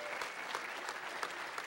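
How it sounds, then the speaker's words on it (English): An audience at a hacker conference's closing ceremony applauds steadily, a dense, fairly faint patter of many hands clapping with no voices over it. "You should be applauding these people."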